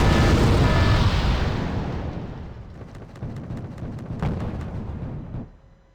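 Recoilless rifle firing in the video game Wargame Red Dragon: a loud, deep blast that rolls off into a long fading rumble, followed by faint distant crackles and pops.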